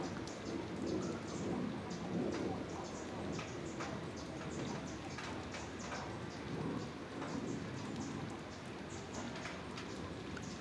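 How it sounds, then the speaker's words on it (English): Steady downpour hisses on pavement and a parked car, with dense pattering drops and a low rumble of thunder underneath, continuous and close throughout. "See the rain here on this vehicle?"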